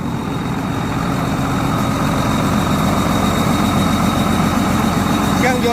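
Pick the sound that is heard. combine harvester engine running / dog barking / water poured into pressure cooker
combine harvester engine running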